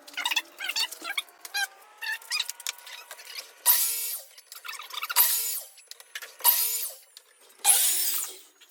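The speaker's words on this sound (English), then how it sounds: "We just use a chop saw just because it was there." A chop saw cutting through PVC pipe for a trash can worm bin, with four loud bursts of high whining cutting noise, separated by clattering handling sounds and quieter gaps.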